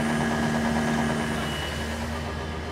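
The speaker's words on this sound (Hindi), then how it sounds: "जब आप एक्सीलेटर देंगे तो आप ये देखें इंजन का रोर दिखाएं, आप इंजन की आवाज़ सुनाएं बाहर जाके।" A used car's engine runs under the accelerator in Pakistan, a loud, steady close-up drone with a rough mechanical rattle that holds for a few seconds and eases slightly toward the end, with no voices.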